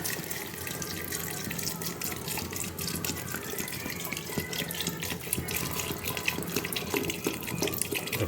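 Water pours into a clay pot of khichdi with pulses, peanuts, potato and salt, a continuous close splashing and gurgling stream that runs for several seconds without talk.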